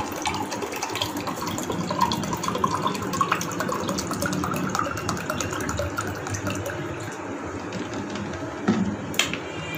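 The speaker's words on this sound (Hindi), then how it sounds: "तो अभी हमने ठंडा पानी लिया है, इसमें पानी ऐड कर दें।" Cold water pours steadily into a glass for a sharbat drink, a continuous splashing, gushing stream that runs close and fairly loud for several seconds with no talk over it.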